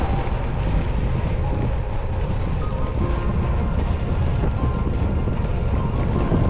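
A strong headwind batters the microphone on a bike ride, making a constant, loud low rumble and buffeting roar that never lets up for the whole stretch, with no voices heard.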